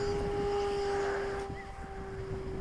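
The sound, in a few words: model airplane engine running with a new propeller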